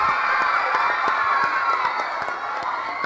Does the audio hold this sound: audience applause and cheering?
yes